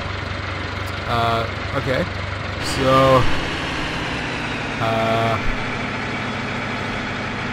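A JCB tractor engine idles in Farming Simulator 15 as a steady low, close hum that runs throughout, partly covered by someone talking in short bursts.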